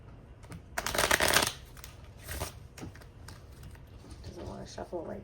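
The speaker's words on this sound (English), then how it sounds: "This is usually my favorite deck to shuffle." A tarot deck is riffled in a quick burst, followed by a few softer shuffles and card taps, fairly close and quiet.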